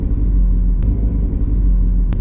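Deep, steady rumble and vibration from a BMW 330e fitted with an Alibaba valved back box exhaust, loud and close, with two brief sharp knocks.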